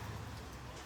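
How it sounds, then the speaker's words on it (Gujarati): Steady rain pours down during a heavy downpour, a soft continuous hiss of drops with no voices over it. "ફાઇનલી વરસાદ વધી ગયો જો હવે"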